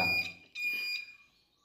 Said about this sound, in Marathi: आता बघा डोर अलार्म वाजत आहे, हा डोर अलार्म वाजत आहे